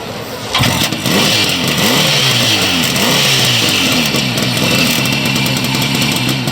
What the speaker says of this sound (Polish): Podwójny wydech.